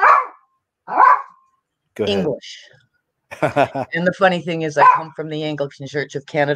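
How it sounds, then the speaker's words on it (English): A dog barks at home behind a man's speech, with two sharp barks and a yelp in the gaps before he talks on, close and fairly loud. "That's my dog back there for some reason."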